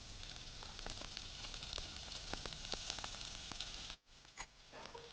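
Onions, beans and other vegetables sauté in a spoonful of oil, giving a steady close crackling sizzle with scattered pops, briefly dipping before resuming.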